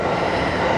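A train on the Akita Inland Line runs along the rails with a loud, steady rumble and rolling roar from the carriage, heard from inside for a brief moment with no talk.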